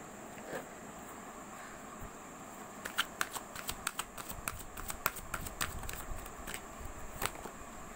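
Tarot cards being shuffled, a quiet stretch followed by a run of crisp, irregular card snaps and riffles, close and fairly faint.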